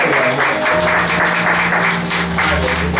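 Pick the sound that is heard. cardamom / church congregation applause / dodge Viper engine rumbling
church congregation applause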